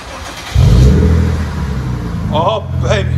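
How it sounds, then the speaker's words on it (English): Lexus IS 350 with a 3.5L V6 and muffler delete revving hard and close, a deep loud exhaust roar swelling and holding, with people talking over the tail end. "Resonator gives it a really deep tone."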